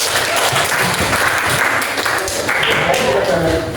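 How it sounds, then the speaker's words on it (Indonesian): A class applauds after a group presentation, with dense, steady clapping from many hands under a few voices throughout. "Kasih tepuk tangannya."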